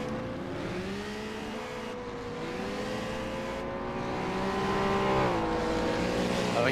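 Historic race cars in a two-hour Tourist Trophy race on the Dundrod circuit drone past, engines rising and falling in pitch as they go by, moderately loud and continuous with overlapping passes.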